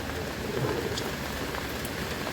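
Steady rain falls on surrounding surfaces, a dense, even hiss of drops that continues without pause.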